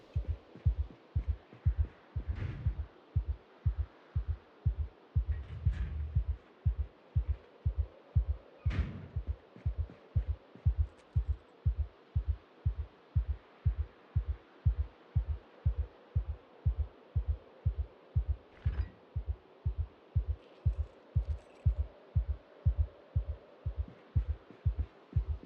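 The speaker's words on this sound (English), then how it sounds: "hearing your heartbeat" A steady, muffled heartbeat thumps in a slow, regular rhythm throughout Project Zomboid, with each low throb repeating evenly over a faint hum.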